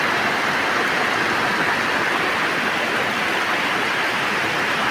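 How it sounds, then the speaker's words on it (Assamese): Torrential June monsoon rain pours down steadily, a dense, loud, unbroken hiss with no pauses and no voices. "এয়া ধাৰাসাৰ বৃষ্টি"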